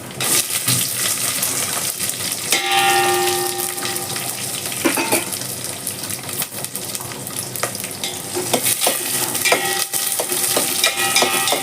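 Onions frying with mustard seeds and cumin in hot oil while being stirred, giving a loud, continuous sizzle and crackle with scraping and clinking of the spoon against the pan throughout.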